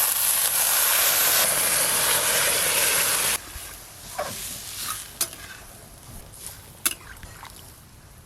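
Water poured into a hot pot of cooking rice and fish head meets a loud rushing sizzle for a few seconds, then settles into quieter bubbling with occasional clinks and stirring sounds close by.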